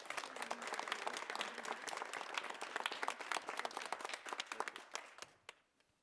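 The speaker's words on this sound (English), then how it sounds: "So can we all just give them a round of applause?" An audience at a 2019 Louisville city event on free tax preparation services claps in steady, dense applause that thins out and fades to a few last claps.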